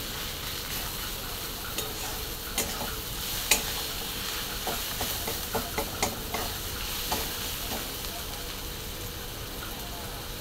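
Onion, turmeric and coriander are stirred together in a pan for egg bhurji, making a continuous frying hiss with frequent spoon scrapes and taps against the pan, close and fairly loud throughout.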